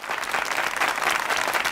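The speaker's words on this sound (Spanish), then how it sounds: "aplauso." Studio audience applause on a Spanish television game show, a dense steady burst of clapping heard alone and fairly close for under two seconds.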